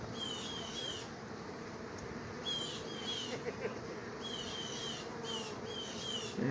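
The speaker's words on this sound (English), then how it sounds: "Bunch of bees running around." A dense, steady hum of many bees buzzing close by around an open hive in an apiary, with individual insects whining past now and then.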